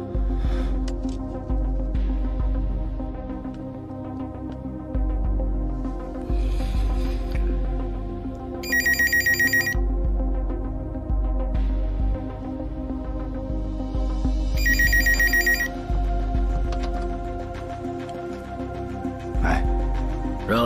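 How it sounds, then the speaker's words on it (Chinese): A telephone rings in a kung fu action film, sounding as two short, bright ringing bursts several seconds apart over a constant low hum and background music. "李俊杰听电话"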